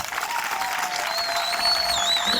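A crowd applauds and cheers steadily at an outdoor electrification ceremony in the Mbama district, honoring the Minister of Energy and Hydraulics; a continuous dense wash of clapping with a faint high tone running over it.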